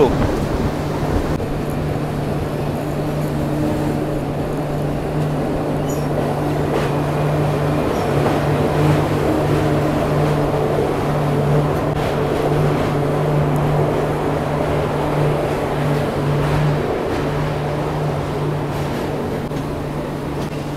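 The 15777 Tourist Express Vistadome train runs steadily through forest on the NJP to Alipurduar line in the Dooars, giving a continuous loud rumble with a sustained low hum and faint rattling throughout.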